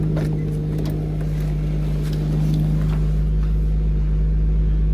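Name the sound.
boosted Infiniti G37 engine idling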